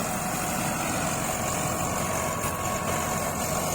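A tractor engine drones steadily close by, driving a threshing machine for a crop harvest with a continuous low rumble and mechanical whir.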